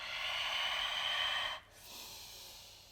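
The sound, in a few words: breathing in and out during yoga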